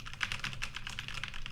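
Computer keyboard typing captured by a Synco Mic-D2 microphone set up away from the keyboard, a dense run of steady, fairly quiet key clicks with no voices.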